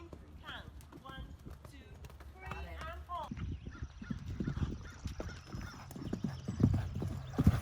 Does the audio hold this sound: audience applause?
no